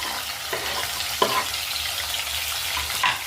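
Sliced capsicum, carrot and green chili frying in a pan for fried rice, a steady close sizzle with a few stirring scrapes and soft clatters over the top.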